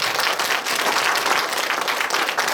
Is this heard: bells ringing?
no